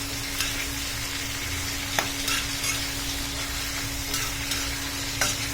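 Large chunks of onion and tomato sautéing in a pan for mint chutney, a steady soft sizzle with occasional scrapes and stirs of a spoon, close and unaccompanied by talk.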